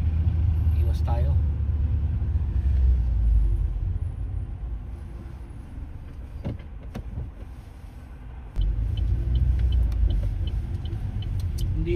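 Road traffic on a Manchester street in the United Kingdom, a steady low rumble of passing cars heard from inside a vehicle, dipping briefly then swelling again, with a few creaks and clicks and people talking throughout.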